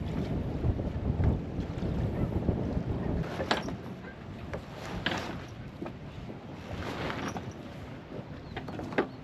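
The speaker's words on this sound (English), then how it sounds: "Very windy." Strong wind roars steadily across the microphone on a sailboat, with gusty rumbling and hissing, and faint water sounds beneath.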